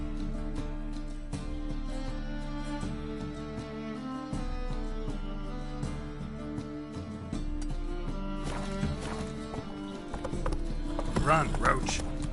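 Video game horse Roach gallops with rapid, rhythmic clip-clop hoofbeats over a dense music score, the pounding steady throughout and intensifying near the end.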